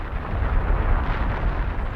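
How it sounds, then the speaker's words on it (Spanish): A deep, continuous roar like the Krakatoa volcanic eruption, a dense low rumble sustained for two seconds with no break or voices. "Cuando el magma explotó en la superficie, arrasó toneladas de roca con una explosión atronadora"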